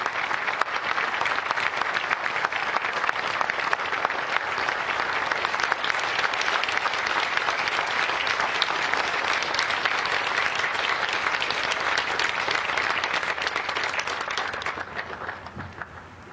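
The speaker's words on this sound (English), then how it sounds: "a huge round of applause for Riptide Ripple" Sustained, loud audience applause at a Pearl Harbor remembrance ceremony, a thick unbroken roar of many clapping hands that holds steady for most of the stretch before gradually tapering off at the end.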